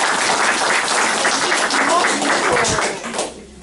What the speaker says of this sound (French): Donc on va vous applaudir aussi.